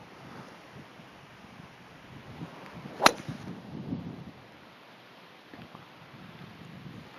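A golf fairway wood sweeps a ball off the turf outdoors, one sharp distant swish and crack standing out from steady wind noise.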